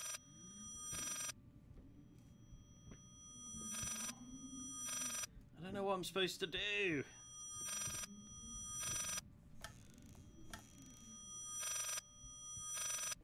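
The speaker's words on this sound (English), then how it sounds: "Is there like a phone somewhere I need to answer?" Telephone ringing in the Layers of Fear horror video game, repeated evenly spaced rings under eerie background sound, with someone speaking in the middle of the clip.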